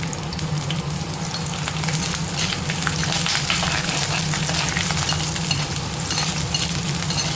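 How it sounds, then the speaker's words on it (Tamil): Peeled garlic cloves and a sprig of curry leaves frying in hot oil for a garlic kara kuzhambu, a steady loud sizzle with scraping stirs running throughout, no voices. "ஒரு கைப்பிடி அளவு பூண்டு உரிச்சு வச்சுருக்கேன். இதை சேர்த்துப்போம்."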